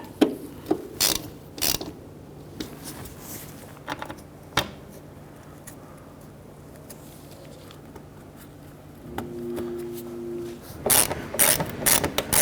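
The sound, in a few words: ratchet snugging screws on Jeep Wrangler windshield cowl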